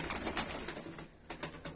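Soft cooing from pet pigeons, faint and close, a few repeated low calls with light rustling between them.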